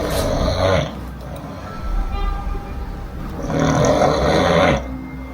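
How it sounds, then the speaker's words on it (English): A man drugged with scopolamine lies on the floor asleep and snores, two long, loud, rasping breaths close by, separated by a quieter pause. "He's now in La La Land as he snores and sleeps for the rest of the day"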